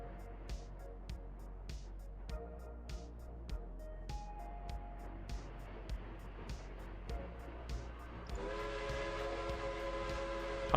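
Train whistle in a city-building video game, faint short toots repeating at a steady rhythm over a low hum, then a longer sustained tone near the end.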